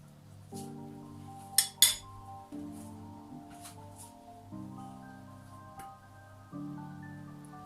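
A spoon clinks against a dish as tomato paste goes into a Turkish purslane pastry filling: two sharp metallic taps early on, then faint scrapes over a steady low background hum.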